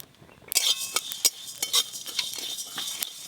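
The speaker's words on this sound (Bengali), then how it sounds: "গোটা জিরে, গোটা ধনে আর গোটা মৌরি প্রথমে হালকা করে ভেজে নেব।" Whole cumin, coriander and fennel seeds dry-roasting in a pan as a utensil stirs them, giving quick scraping clinks and rattles in an uneven rhythm, close and fairly bright, starting abruptly after a brief quiet.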